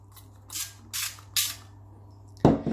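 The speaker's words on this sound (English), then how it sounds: "I will just grease it little by spraying some olive oil." Three quick hissing sprays of olive oil onto an air fryer tray, evenly spaced, followed by a sharper clatter near the end.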